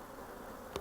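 Honeybees buzz steadily around an open beehive, a dense continuous drone filling the short moment, with a brief louder swell near the end as a bee passes close.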